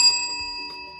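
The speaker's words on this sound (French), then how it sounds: "C'était une cloche, tu sais, comme on voit dans les casse-croûtes ou dans un service public" Small service counter bell of the kind found at snack bars and public service desks, struck once, giving a bright metallic ding that rings out and slowly decays, with no voices.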